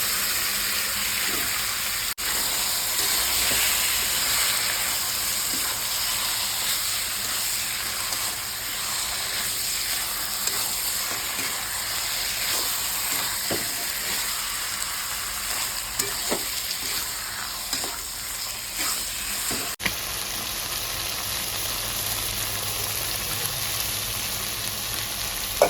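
Mutton meat sizzling and frying steadily in a pan of fried spice masala, a continuous close hiss with occasional stirring scrapes throughout, no talking.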